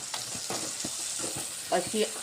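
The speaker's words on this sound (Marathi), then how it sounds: "आता यामध्ये मी टमाटर टाकत आहे. याला पण मऊसूत होईपर्यंत थोडं शिजू द्यायचं आपल्याला." Tomatoes added to softened onion fry in a pan with a continuous sizzle, close and moderate, while someone speaks over the cooking.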